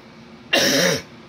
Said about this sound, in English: My cough is mold.